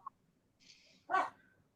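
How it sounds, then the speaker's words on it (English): A dog with a deep voice gives a single short bark, loud and close, after a faint high whine, with no talking. "Sounds like a big dog."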